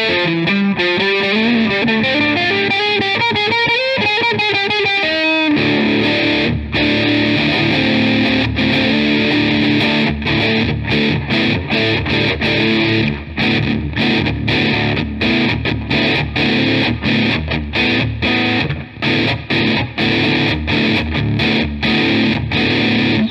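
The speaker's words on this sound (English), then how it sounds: "that's one of the best distortion tones I've heard" Heavily distorted electric guitar through a NUX MG100 preset, bordering on fuzz, played loud and continuous: a sustained chord opening followed by choppy rhythmic riffing with sharp repeated attacks, no voices.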